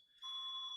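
A house smoke alarm sounds one short, shrill electronic beep or chirp, faint and distant, lasting under a second with nothing else around it.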